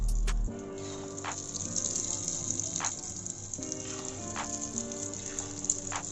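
Karandi omelette batter poured into hot oil in a small ladle pan, giving a soft gushing sizzle after a brief opening clatter, with faint crackles and spatters continuing quietly throughout.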